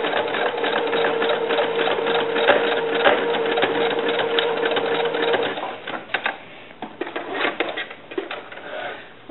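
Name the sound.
sewing machine stitching zigzag on doll bra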